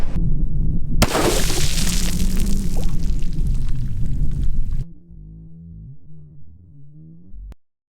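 A 6.5 Grendel rifle firing a 120gr Nosler Ballistic Tip at a target 200 yards out: a sharp loud blast at about one second, a sustained roar and rumble for several seconds, then a quieter low hum fading out.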